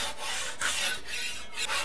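A drywall knife scrapes a thin layer of joint compound during a stairwell storage renovation, close, steady rasping strokes with short pauses between passes, quiet overall with no talk.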